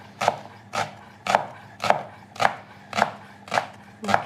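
A knife slices through leeks on a board in eight evenly spaced, crisp chops, a steady rhythm close up with nothing else heard.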